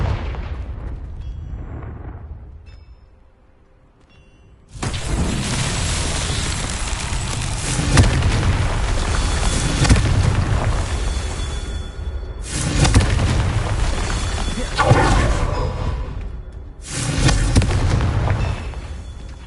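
Repeated Confringo fire spells exploding in the Hogwarts Legacy video game: loud, sustained booming bursts in several waves after a quiet start, with crackling blasts resembling fireworks.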